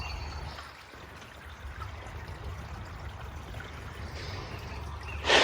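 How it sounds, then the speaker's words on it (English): Water running out of a drainage pipe beside a muddy trail ditch that drains toward a stream, a steady close pouring trickle that carries on without a break until a brief louder rush at the end. "The pipe is just flowing really nice."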